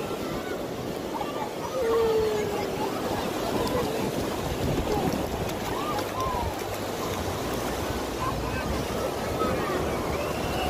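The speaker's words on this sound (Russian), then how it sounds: "Ну, сегодня волны," Waves wash onto an Azov Sea sanatorium beach in a continuous rushing surge, with wind buffeting the microphone and people talking nearby.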